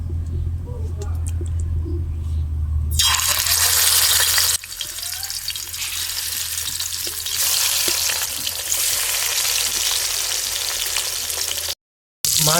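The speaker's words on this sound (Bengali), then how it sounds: "তেল গরম হয়ে গেলে এবারে আমি নুন হলুদ মাখা মাছগুলো ভেজে নেব" Rohu fish pieces coated in salt and turmeric hit hot oil in a kadai, giving a loud, sudden hissing sizzle that keeps crackling steadily, with a low hum underneath early on and a brief dropout near the end.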